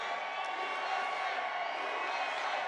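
Large outdoor rally crowd in Albuquerque, New Mexico, a steady dense roar of many voices with faint cheering, even and unbroken throughout, no single voice standing out.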